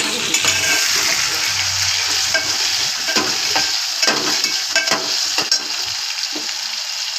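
Potato frying in oil in a pan, a loud, steady sizzle close by with occasional stirring scrapes and clinks, no talk.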